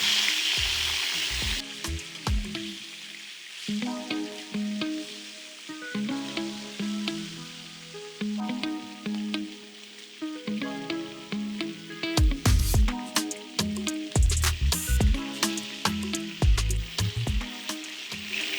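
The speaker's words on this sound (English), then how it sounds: "These short ribs have been searing for about 5 minutes." Beef short ribs searing in a hot pan give a steady crackling sizzle, with busier, louder spitting and pops toward the end and no voices.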